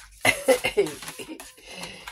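A few short, harsh coughs in quick succession, close up, followed by a softer throaty rasp trailing off.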